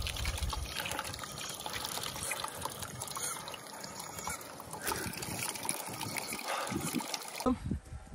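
Water running from an outdoor fountain as hands and feet are washed on a hot day, a steady close trickle and splash with irregular bursts throughout, ending in a brief louder splash.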